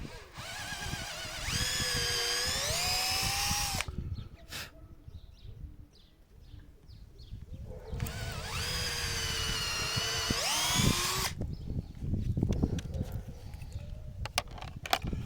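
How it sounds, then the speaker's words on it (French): A small power drill whines up to speed twice, drilling pilot holes for large screws when fitting solar panel rails on a roof, each run lasting a few seconds, with rustling and handling noises between and after. "Petite perceuse. Parce que vaut mieux faire des pré-trous."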